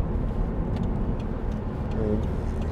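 A 2008 Audi TTS 2.0 TFSI roadster with S tronic gearbox and quattro drive accelerating hard up a dual carriageway, a steady loud low engine drone with road roar heard from inside the car.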